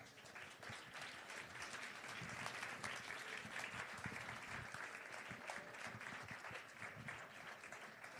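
Sustained audience applause at a book talk about conspiracy theories during Sherwood Winter Fest, a steady wash of many hands clapping at even loudness throughout, with no voices over it.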